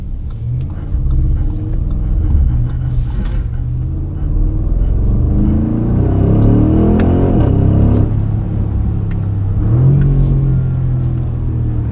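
A 2024 Audi SQ7 drives through snow, its engine holding a steady, close low rumble that rises with revs mid-drive, with a voice briefly audible over it.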